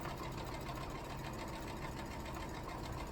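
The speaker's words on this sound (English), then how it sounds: "now we're going to sew this row together" A sewing machine stitches a row of quilt pieces together, a steady close mechanical whir running continuously without pause.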